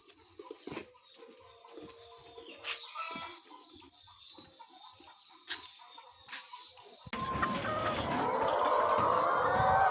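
Poultry birds on a farm waiting for feed cluck and coo in scattered calls, then a louder, denser burst of flapping and clucking near the end.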